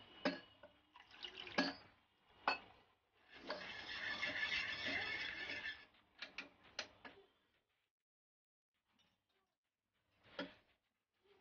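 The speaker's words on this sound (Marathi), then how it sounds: "आता आपण याच्यात थोडंसं पाणी टाकूया" Water is poured into cooked toor dal in a pot for a steady pour of about two seconds, framed by a few sharp clinks and taps in a quiet kitchen.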